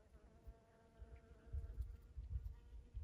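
Bees swarming around flowers in a pan in a garden, a dense, continuous buzzing hum that swells louder in the second half, with several insects close to the microphone.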